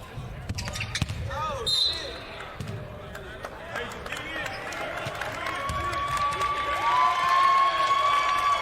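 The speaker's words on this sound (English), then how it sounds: "And the crowd here at Michelob Ultra Arena giving the Tigers a hand." Arena crowd at Michelob Ultra Arena applauding the Tigers late in a college basketball game between North Carolina A&T and Jackson State, a steady wash of clapping and cheering with ball bounces and voices over the top.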